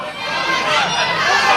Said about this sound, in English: And the roar goes up to this educated crowd.